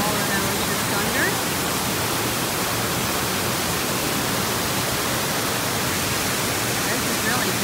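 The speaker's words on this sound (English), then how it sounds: "There's the waterfall that I was just under." A steady, loud rush of falling water from an indoor waterfall at the Gaylord Palms Resort roars without a break, dense broadband noise close by and constant throughout.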